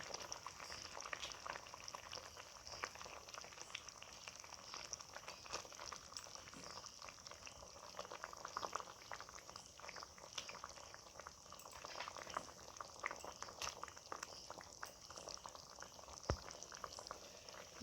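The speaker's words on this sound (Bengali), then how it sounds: "গ্রেভিটা ফুটছে, এবার আমি একে একে মাছগুলো দিয়ে দেবো।" Shrimp malai curry gravy made with cow's milk bubbles and simmers in a pan, giving a steady soft crackle and hiss of boiling with small pops throughout and no voices.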